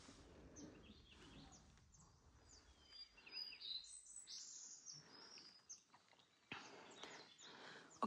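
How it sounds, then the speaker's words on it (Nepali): Birds chirp and call on a hillside in the open outdoors, with scattered tweets near and far over a soft background and no talking. "हजुरहरूले सुन्दै हुनुहुन्छ चराचुरुङ्गीको आवाज"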